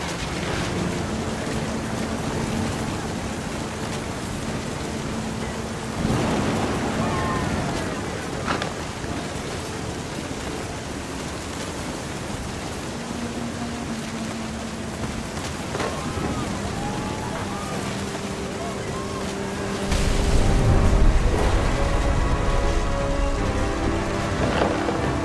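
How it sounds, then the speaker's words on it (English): Steady heavy rain in the video game What Remains of Edith Finch hisses throughout, with low rumbles of thunder swelling at intervals and a louder surge near the end; a faint voice is briefly heard. "The thunder sounded much too close and full of angry power."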